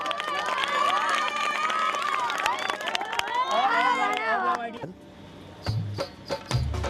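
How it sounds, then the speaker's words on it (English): Children and a crowd at an innovation lab event cheer and shout loudly, with high excited voices and some clapping, then a sudden drop to sparse sounds and brief talk. "Everyone clap for Raul"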